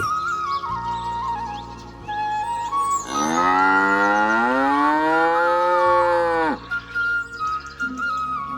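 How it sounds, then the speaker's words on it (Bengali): Cattle and goats leaving the cowshed and walking slowly toward the field, with one long, loud cow moo rising and falling in the middle over a quiet village background. "গরু ছাগলগুলো গোয়ালগড় থেকে বেরিয়ে ধীর পায়ে হেঁটে চলেছে মাঠের দিকে"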